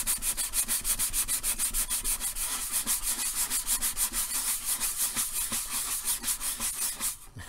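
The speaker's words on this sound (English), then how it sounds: "Streaming while sanding this may not have been a good idea because I keep stopping." Steady back-and-forth sanding strokes on a 3D printed space suit helmet, rhythmic and close, about two strokes per second, continuing without pause and with no voices present.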